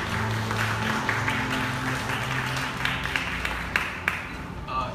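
A press launch audience for a Sony Xperia XA1 Plus phone claps in a steady, moderate round of applause indoors, thinning out toward the end with a few last claps.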